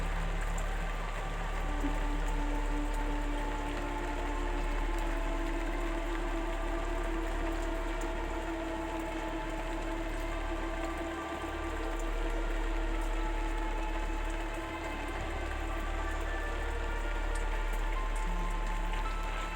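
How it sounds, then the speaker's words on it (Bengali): Chopped onions fry in hot oil with whole chillies, giving a steady, even sizzle that hisses on without pause for the whole stretch, with no talking over it. "খুব ভালোভাবে আমি পেঁয়াজগুলো ভাজা করে নেব"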